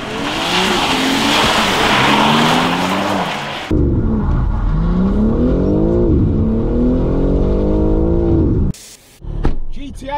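Volkswagen GTI Club Sport driven fast in reverse, loud close engine whine climbing in pitch, briefly easing and then winding up again before cutting off abruptly, with rough road and tyre noise and a person talking.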